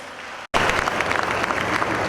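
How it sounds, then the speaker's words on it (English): A round of applause at a postgraduate orientation programme, sustained dense clapping from a room of people, loud and close, starting abruptly after a brief silence and continuing to the end. "Give a big round of applause for her."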